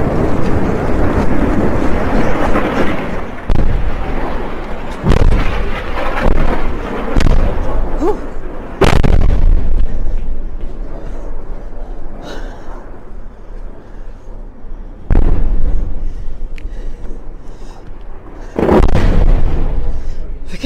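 Rocket attacks intercepted by the Iron Dome air defense system during the Israel–Hamas war, with repeated loud, close booming explosions at irregular intervals and rumbling echoes in between, while a person talks.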